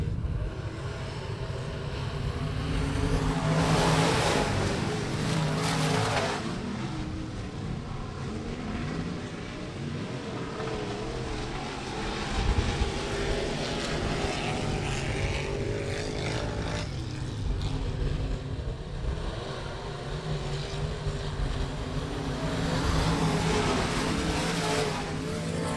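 Race cars roaring off at the start of a feature race at a short oval track, a dense sustained engine rumble that swells and fades as the pack passes, loud and continuous for about twenty-five seconds.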